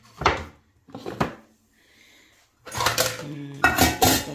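Metal pots and pans clatter and clank as they are set down and stacked, in several separate bursts with short pauses between.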